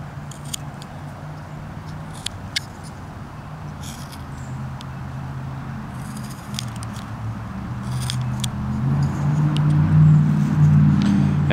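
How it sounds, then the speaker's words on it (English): Cars pass outdoors on a nearby road, a steady low traffic rumble that swells toward the end, with faint scraping and clicking of carving work close by. "And you can hear the cars."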